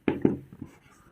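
Pen or chalk strokes for a handwritten maths solution, two sharp scratchy marks followed by a few fainter strokes, close and quiet with no voice over them.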